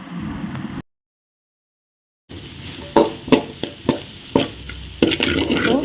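Onion and carrot sauté on a slow flame with soft sizzling, broken by a brief silence, then a series of distinct stirring scrapes and clinks of a spatula against the pan.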